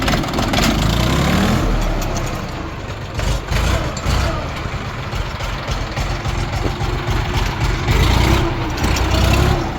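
Small four-wheel-drive tractor with its engine running loud and close, a rough low idle with revving and some clunks as the gearbox is shifted into first gear.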